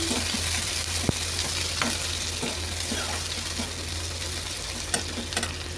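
Chopped onions fry in a pan at home, giving a constant close sizzle broken by a few sharp clicks and scrapes of stirring.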